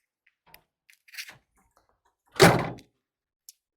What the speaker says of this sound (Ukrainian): Закриваємо капот.